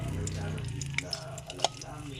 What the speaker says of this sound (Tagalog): Prito ko buwad guys.